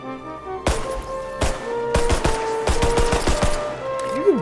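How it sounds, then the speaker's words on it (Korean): Rapid bursts of sharp, punchy pistol gunshots from the game XDefiant, fired in quick irregular volleys with metallic ringing tails, then a brief pause and one more shot. "이 총기 사운드들이 쫀득하다기보다는 뭔가 그이 지저분하게 질퍽거리는 소리"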